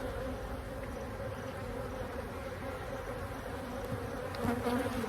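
Honeybees buzz loudly and steadily around an open hive during an inspection, a dense, close, continuous drone of many wings that swells slightly near the end.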